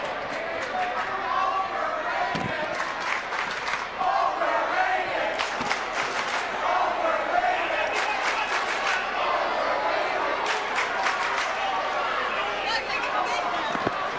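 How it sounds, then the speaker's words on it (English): A college basketball arena crowd at Holy Cross versus Sacred Heart roars, chatters and chants before tip-off, a dense sustained wall of voices with scattered sharp claps and shouts. "I could see the crowd already getting into it over here"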